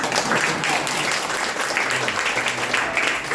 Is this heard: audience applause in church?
yes